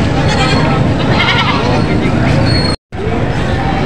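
Large native goats, including bucks, bleat at a livestock market, a few bleats rising over a dense crowd babble with people talking and some vehicle noise, close and loud, with a short silent gap.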